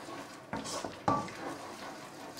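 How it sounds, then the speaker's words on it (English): Jollof rice stirred in a pot, a spoon scraping and knocking against the metal in two distinct strokes over a soft background hiss, close and moderately quiet. "So stir this."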